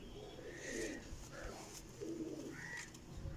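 Pigeons coo in soft, repeated low calls, a few overlapping phrases close by against faint background noise, with no talking.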